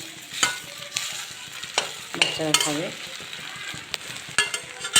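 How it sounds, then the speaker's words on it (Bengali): Bread fries in a pan with only a little oil, making an even crackling sizzle broken by scraping and clinking of a utensil, with someone speaking briefly partway through. "হালকা হালকা তেল দিয়ে ভেজে নেব, আমি বেশি তেলটা ইউজ করবো না,"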